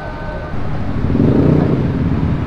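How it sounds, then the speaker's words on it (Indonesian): A Yamaha WR 250 supermoto with a dB killer fitted in its exhaust runs with a muffled, low engine note that steps up in level partway through and holds steady. "suara knalpot aslinya."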